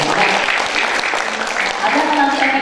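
An audience at a board inauguration ceremony in Karawang bursts into clapping, a busy rattle of many hands that runs loud and unbroken under voices speaking and calling out.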